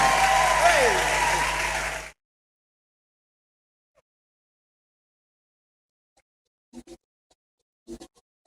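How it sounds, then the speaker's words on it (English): An audience clapping along during a live radio morning show, a dense burst of applause for about two seconds that cuts off abruptly, followed by near silence with a few faint taps. "Can you clap with us?"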